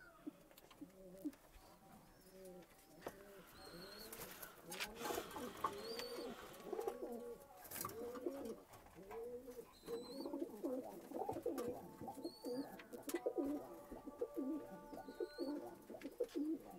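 Green-eyed pigeons of karna and sada breeds coo over and over in a steady rhythmic stream, close and clear, with faint higher chirps scattered over the top.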